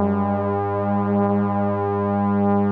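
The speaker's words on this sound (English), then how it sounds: "I'm going to try and tune these drones." A steady, sustained drone from a Solar 42F synthesizer with rich stacked harmonics, holding one low pitch evenly throughout with no voices.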